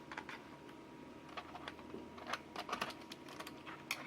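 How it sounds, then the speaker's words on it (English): A keycap being pried off a HAVIT Magic Eagle rubber dome gaming keyboard: a run of faint plastic clicks and scrapes, with a few sharper snaps near the end, all quiet and close. "take a key off here real quick and show you"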